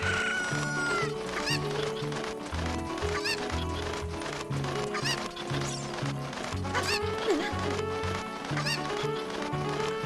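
A chicken clucks in The Legend of Zelda: Ocarina of Time Master Quest, with short repeated clucks over busy game music and effects, no talk over it.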